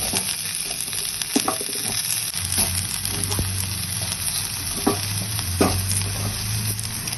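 Sweet pumpkin added to a pan of hot oil for a vegetarian vegetable dish, a steady close sizzle with intermittent scraping and tapping of a spatula as it is stirred, no voices.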